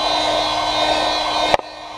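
A hair dryer blowing steadily close by while drying a leather dye coating on auto leather, a constant airy whoosh that cuts off abruptly near the end.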